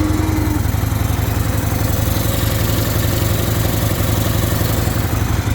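Harley-Davidson Shovelhead engine fitted with a CV carburetor idling, a steady close rhythmic lumpy putter with mechanical clatter, running smoothly throughout.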